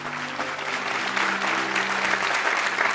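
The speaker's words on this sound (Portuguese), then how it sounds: "Dê o melhor aplauso que você pode dar a Deus." A congregation claps loudly during a church service, dense continuous applause with a soft sustained keyboard chord underneath.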